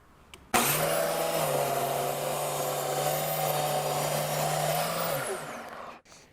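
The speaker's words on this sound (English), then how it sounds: "Then I can use my disc sander for the final cleanup." Disc sander cleaning up cut wood stations: the motor switches on with a sudden whir, holds a steady loud hum with the pitch dipping slightly as wood is pressed against the disc, then winds down and stops.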